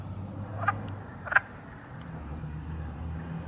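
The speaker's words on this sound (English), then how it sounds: "But I'm hearing a wood frog." A wood frog calls at a pond with brownish algae and tadpoles, giving two short clucking croaks about a second apart over a low steady background hum.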